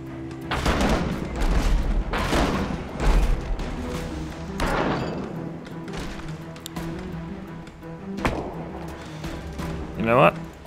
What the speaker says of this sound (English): we'll load this, fire it once more, then get to the gun